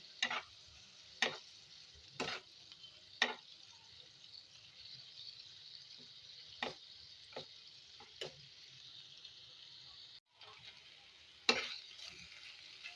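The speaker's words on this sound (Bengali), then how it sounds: "আমি এটাকে জল দিয়ে দিয়ে খুব ভালো করে কষিয়ে নিচ্ছি" Spice masala cooks down with a little water in a pan for egg curry, giving a soft, quiet bubbling sizzle broken by sharp stirring scrapes and clinks at irregular intervals.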